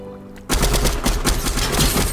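Rapid automatic gunfire from a gun in Fortnite Chapter 3, a loud, close burst of evenly spaced shots that starts abruptly after a brief quiet moment and keeps going without pause.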